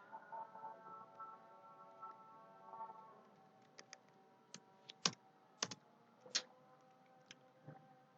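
Scattered keystrokes clack on a computer keyboard while a program is written in the emu8086 assembler, a few soft taps followed by louder, sharper presses against a faint steady hum, with no talking.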